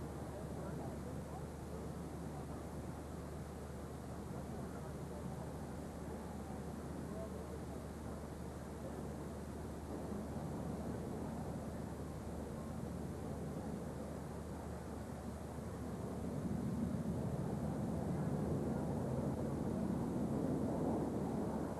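Red Arrows Royal Air Force aerobatic jets flying a display loop at an airshow, a steady distant broad jet roar that swells louder toward the end, with an announcer talking over it.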